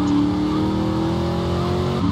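Limousine engine in GTA Vice City, a loud steady game motor drone with a sporty, racing-car character, holding a sustained pitch for about two seconds with no talk over it.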